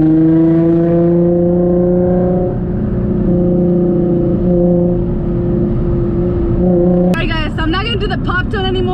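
A Nissan 350Z fitted with test pipes idles with a steady, loud exhaust drone, then a sharp rev flares up near the end. No talking is heard over the engine.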